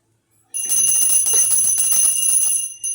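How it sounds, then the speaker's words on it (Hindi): A bright metallic bell rings rapidly and continuously for a couple of seconds during a Satyanarayan puja recitation, shimmering and loud, with no voices. "सत्यनारायण भगवान की बजाओ घंटी"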